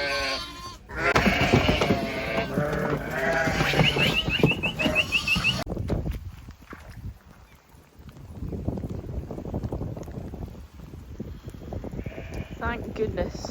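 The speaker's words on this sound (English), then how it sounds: "So lambs are in the front and then the ewes are in the back." Sheep and lambs bleating inside a lambing shed during snowy, sleety weather, with lambs penned at the front and ewes at the back; several mid-distance calls come and go amid steady barn noise and a person talking.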